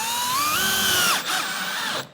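A power drill drives a screw through a hinge on a chicken coop door flap, giving a whining spin that rises in pitch, briefly dips, then whirs again before stopping. It is close and loud, with no talking.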